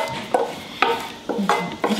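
A spoon scrapes and stirs a cooking pot of fried vegetables for Armenian chicken meatballs, with five or six sharp scraping strokes over a steady background hiss, close and fairly loud.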